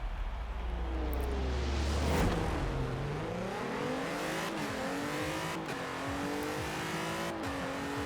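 A massive drag-racing truck in Forza Horizon 4 revs hard and loud, its engine pitch climbing and dropping repeatedly through a series of gear changes, with no voices.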